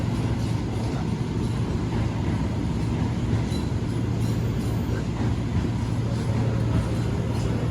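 Interior of a new-generation economy class Fajar Utama passenger train, a steady low rumble of the moving carriage with constant broadband noise throughout, no talk.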